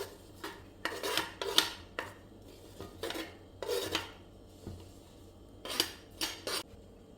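Sliced vegetables for atchara are tossed and mixed in a bowl. Utensils make intermittent scraping, clinking strokes in short bursts separated by brief pauses.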